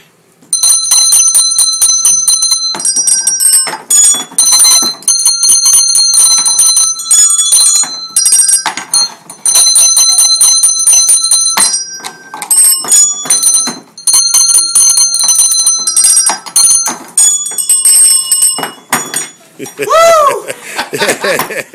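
Bright, ringing hand bells play a Christmas tune in loud, sustained strikes, with short pauses between phrases and no talking over them.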